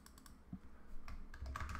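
Fast typing on a computer keyboard, close and fairly quiet, with clustered key clicks in short bursts and no voices.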